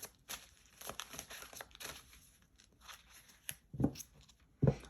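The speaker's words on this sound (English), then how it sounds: "I'm going to shuffle real quick" Soft rustling and riffling of tarot cards being shuffled in short bursts, a few sharper taps near the end, quiet and close with no talking.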